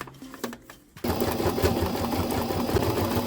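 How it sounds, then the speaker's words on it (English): A sewing machine zigzag-stitches a coiled cord into a circle, starting after a second of quiet handling noises and then running continuously as a fast, close, even mechanical whir. "Machine stitch, zigzag."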